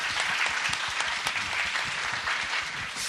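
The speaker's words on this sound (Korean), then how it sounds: "여러분 박수로 맞이해주세요." A studio audience claps steadily and warmly for a few seconds, a dense and even wash of applause with no voices over it.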